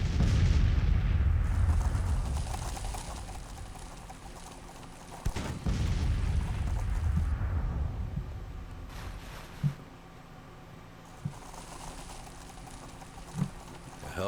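Civil War cannon fire in Grand Tactician: The Civil War, a heavy opening barrage rumbling and fading, then scattered distant booms spaced several seconds apart.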